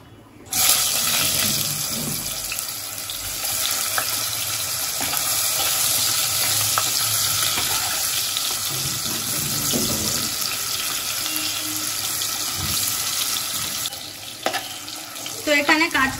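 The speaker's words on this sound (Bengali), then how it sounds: "এর মধ্যে আমি সিদ্ধ করে রাখা কাঁচকলাটা ভাজবো।" Boiled green plantain frying in a pan of oil gives a steady, close broadband hiss and crackle that runs nearly unbroken, with a few brief clinks near the end.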